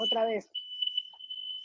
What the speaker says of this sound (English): That's my fire alarm again.